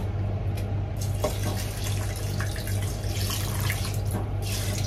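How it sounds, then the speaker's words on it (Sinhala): Water pours steadily from a tap while milk packets are rinsed out into a rice cooker, making a constant close splashing rush with a few brief spatters, and no one speaks. "මේ කිරි ටිකත් එක්කම සෝදලා ගන්න මේ විදිහට. ඒකත් එක්කම මේකට එකතු කරන්න වතුර ටික."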